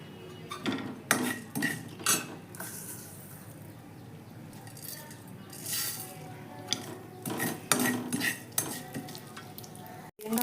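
Mustard seeds and fenugreek seeds dry-roasting in a pan, heard as scattered clinks, scrapes and stirring knocks of a utensil against metal over a soft, faint crackle, with no voices.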